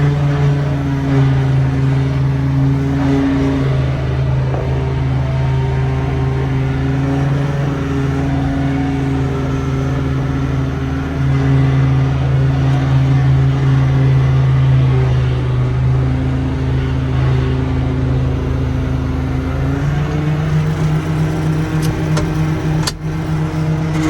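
A 2+2 farm tractor engine runs loud and close while warming up, a steady rough rumble that shifts in pitch as the throttle changes partway through.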